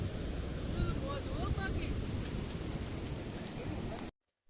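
Sea waves break at the shore in Diu with a continuous roaring wash, mixed with gusting wind noise on the microphone, before the sound cuts off abruptly.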